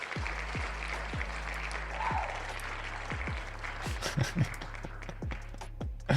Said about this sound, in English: That applause is hilarious.